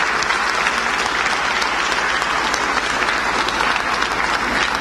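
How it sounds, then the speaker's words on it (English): Sustained, loud audience applause for the finalists of the first ROKiT Racing Star F4 Esports Competition UK grand final, dense steady clapping filling the whole stretch without a break. "Let's have a round of applause for them as well"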